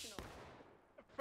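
Musket gunfire and cannon blasts from the Civil War shooter game War of Rights: a loud close shot with a long decaying rumble, a fainter report near the end, then another sharp blast.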